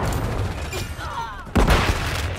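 A flashbang grenade goes off in Call of Duty Modern Warfare 3, a sudden loud burst halfway through that rings out after a stretch of quieter game noise.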